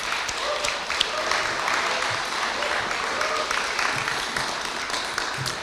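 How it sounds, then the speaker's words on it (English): An indoor audience gives a round of applause for four election candidates at a question-time event, with steady clapping from a moderate distance running throughout and a murmur of voices beneath it. "So a round of applause for our candidates."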